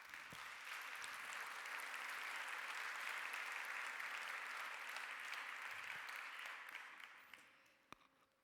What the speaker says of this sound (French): qui mérite d'être amplement salué sous vos applaudissements